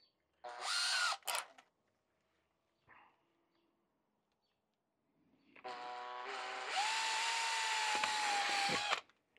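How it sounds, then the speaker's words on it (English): A power drill whirs in a short burst, pauses, then runs longer with its pitch rising and holding steady as it bores a hole to mount an articulating bracket. "We're going to pray that our drill is actually going to survive."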